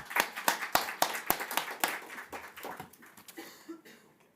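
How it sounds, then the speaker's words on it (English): Scattered clapping from a small audience welcoming high-level guests at a climate finance session, distinct individual claps at first that thin out and fade over a few seconds. "let's give a round of applause to our high-level guests"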